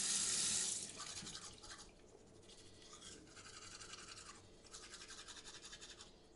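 Running water in an indoor shower, a steady faint hiss with a brief louder burst at the start, no voices.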